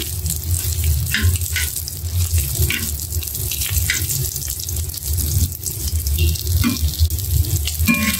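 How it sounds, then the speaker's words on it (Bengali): Fish fries with dried chillies in a pan, giving a loud, continuous sizzle and crackle close up, with scraping, stirring bursts recurring throughout. "শুকনো মরিচের সাথে ভেজে নিচ্ছি"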